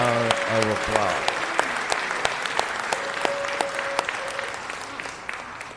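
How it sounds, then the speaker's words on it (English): Applause at a city council meeting honoring a councilman's 90th birthday, steady clapping with sharp individual claps standing out, while a voice talks over the start of it. "Let's give him another round of applause."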